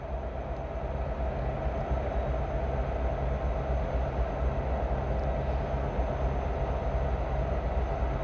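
Iowa Northern freight train rolling through the Cedar Falls junction with the CN Waterloo subdivision, a steady low rumble and rolling drone that holds evenly throughout at moderate distance, with no talk.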